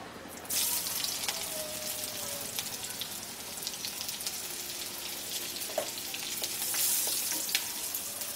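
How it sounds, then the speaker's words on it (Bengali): Chopped garlic frying in refined oil in a pan, a continuous close hissing sizzle like light rain, with a few faint clicks and no talking. "এবারে আমি এর মধ্যে দিচ্ছি রসুন কুচি"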